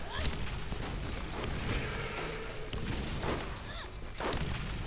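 Grenade explosions in Borderlands, a shooter game, sound as a loud, dense run of overlapping booms and blasts with short swishes, a steady barrage with no quiet gaps.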